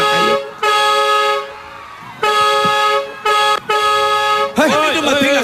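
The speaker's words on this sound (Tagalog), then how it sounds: "Bumusina na, pero may dumating." A vehicle horn honks loudly and close in several long toots of uneven length, followed by a shorter burst of wavering horn notes, amid a busy live TV show setting.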